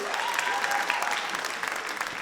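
Sustained audience applause at a Georgian league quarterfinal show: dense, even clapping from a crowd that holds steady and fairly loud for a couple of seconds without breaks.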